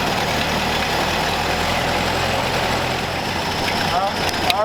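A 1931 Ford Model A coupe engine idles steadily after starting, running off a nurse tank with a loose alternator bracket; a continuous low rumble with engine hum stays up close throughout, voices talking faintly beneath it.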